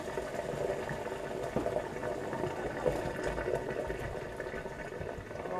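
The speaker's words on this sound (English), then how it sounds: "while I pour the squash in the strainer." Boiled squash pours into a strainer in a kitchen sink with cold tap water running, a steady close splashing and gushing of water throughout with no talking.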